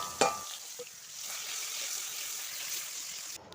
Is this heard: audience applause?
no